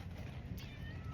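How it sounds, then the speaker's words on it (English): A cat meows faintly once, a brief soft call over a steady low rumble of background noise at a birthday gathering. "And look, there's a cat."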